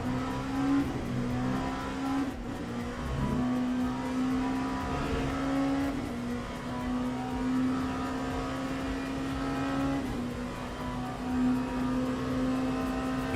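Race car engines in the Le Mans Ultimate video game, a rich, sustained drone holding steady pitch with small shifts as cars run, with no talk over it.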